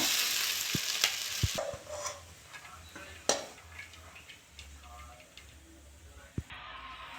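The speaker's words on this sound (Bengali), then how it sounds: "ভালো করে নেড়ে ফেড়ে নেবো নেড়ে ফেড়ে একটু ভেজে নেবো" Chowmein being stir-fried in a pan with spices, low sizzling under sharp clinks and scrapes of a utensil against the metal, intermittent and close.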